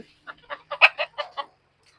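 Chickens on a farm near their coop give a quick series of about seven close, clear clucks over roughly a second, then go quiet.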